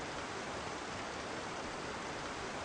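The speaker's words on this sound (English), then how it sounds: "Now we can hear the waterfall." Waterfall in the video game Trespasser, a steady broadband rush of falling water that holds evenly throughout at a moderate, fairly distant level, with no voices.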